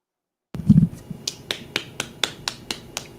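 Crisp finger snaps ring out one after another in a steady, fairly quick rhythm, about ten sharp clicks close to the listener following a brief low rustle, with no voices.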